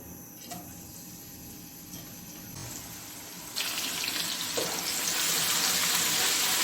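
Ginger and garlic go into a hot pan for chicken pasta, starting as a faint hiss and swelling into a loud, bright, continuous sizzle after a few seconds, with no talking.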